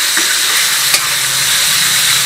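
Vegetables for pinakbet sizzle in a hot pan, a loud, steady frying hiss with a faint clink partway through and no talking.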